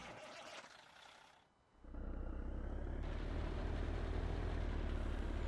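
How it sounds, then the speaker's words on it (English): A tractor engine in Farming Simulator 19 starts up partway through and settles into a loud, steady, droning rumble that carries on to the end, with no talking. "just did start the engine"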